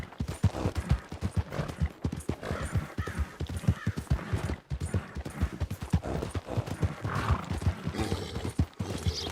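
Horse hooves clip-clop in a steady, rapid rhythm as the horse is ridden through brush in the western video game RedM, with faint ambient birds and rustling behind.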